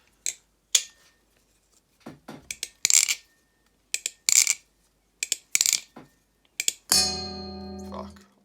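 An unlubricated Armed Shark Kraken clone butterfly knife flipped up close: a string of sharp, light metallic clicks and clacks in quick uneven bursts, ending in one loud ringing clang as it strikes a stand.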